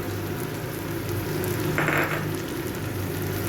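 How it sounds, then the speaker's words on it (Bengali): Chopped onion goes into a pan of fried potatoes in hot oil, setting off a loud, steady, dense sizzle close by, with a brief brighter hiss partway through and no voices. "এবারে আমি যে পেঁয়াজটা কেটে রেখেছিলাম এই পেঁয়াজটা দিয়ে দেবো"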